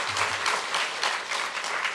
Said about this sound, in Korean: 우리 그 하나님 앞에 모두 영광과 감사의 박수를 한번 주님 앞에 올려드리겠습니다.